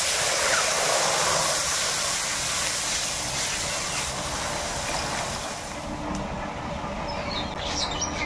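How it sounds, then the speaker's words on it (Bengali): Milk poured into a hot pan of fried cashews and raisins while making a taro kheer, giving a steady close sizzling hiss that runs the whole time, easing slightly toward the end, with no talk. "কাজু কিশমিশগুলো ভাজা ভাজা হয়ে গেছে, এর মধ্যে আমি দুধ দিয়ে দেবো।"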